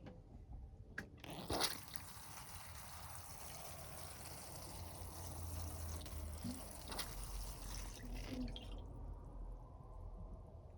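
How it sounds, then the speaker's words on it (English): Water poured over a freshly repotted beech bonsai, a steady soft splashing and trickling into the soil that runs close and continuous for about ten seconds, with a few brief knocks early on and no talking. "Let's get some water on it."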